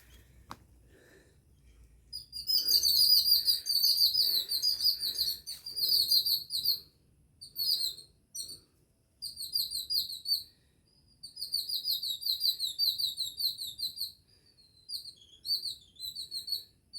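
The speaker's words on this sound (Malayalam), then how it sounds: "പക്ഷികളൊക്കെ ഉണ്ട്" High, rapid bird chirps come in repeated bursts separated by short pauses, clear against an otherwise quiet background.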